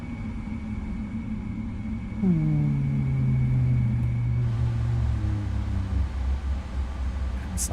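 Low drone of airliner engines spooling down in a flight simulator, a PMDG 777F, a falling whine gliding lower over a few seconds, leaving a steady rumble and hiss behind.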